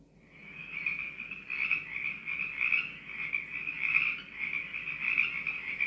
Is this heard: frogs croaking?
yes